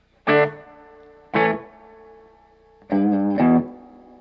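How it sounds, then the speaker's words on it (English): Distorted electric guitar chords through a Fender Sonic 22 amplifier with reverb turned all the way up strike four times, each ringing out with a lingering reverb tail that fades slowly. "This has a really nice usable reverb all the way up."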